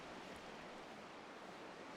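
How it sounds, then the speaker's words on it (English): Steady ocean surf rushes as a continuous broadband wash on a simulated Cypress Point golf course at Pebble Beach, California, fairly quiet and unbroken, with no one talking. "the ocean just hit my ear"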